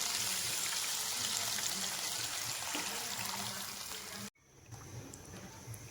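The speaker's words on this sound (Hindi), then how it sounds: "अब इसमें लस्सी ऐड कर देंगे।" Buttermilk lassi poured into a pan of cooking ginger-garlic paste for Punjabi kadhi, a steady close splashing hiss that runs several seconds before cutting off abruptly, then a quieter bubbling simmer.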